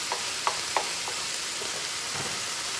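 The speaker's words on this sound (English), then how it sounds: "we're going to come in with the garlic. We're still sitting on a high heat." Garlic sizzles hard in a pan over high heat, a steady, close frying hiss with a few light clicks and taps from stirring near the start.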